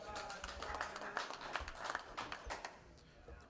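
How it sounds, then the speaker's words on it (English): Wrestling-match crowd cheering for a wrestler, a steady wash of voices and scattered clapping that swells in bursts throughout, with an announcer's talk running over it. "Crowd clearly cheering on Emmett"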